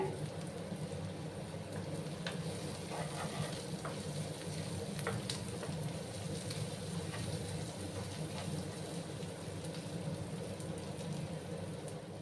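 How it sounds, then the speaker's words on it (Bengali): Onions sprinkled with salt fry in a pan while cooking a dish of ridge gourd, potato and small fish, giving a steady, close sizzle with scattered crackles and pops throughout, without any talking. "আর একটু সময় আমি পেঁয়াজগুলোকে ভাজবো"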